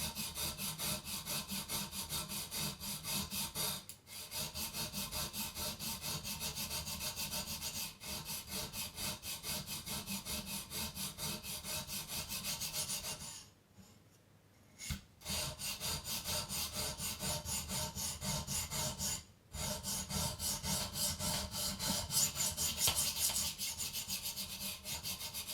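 A Spyderco Delica knife with a VG10 blade is stroked against stones on a TS Prof guided sharpener, a steady rhythmic scraping that runs on continuously with only a few brief pauses, moderately faint and unaccompanied by speech.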